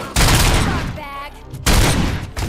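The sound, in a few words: gunfire in the video game RoboCop: Rogue City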